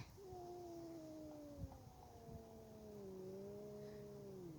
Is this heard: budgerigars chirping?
no